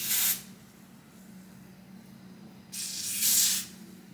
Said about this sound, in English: So now I'm just going to install it using a little lace spray.